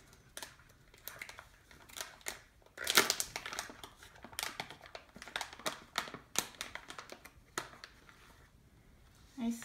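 A 4-ounce resealable bag of Uvernal organic matcha powder is opened, giving close, crisp crinkles and rustles with a sharper tearing burst early on, then scattered crackling until the end.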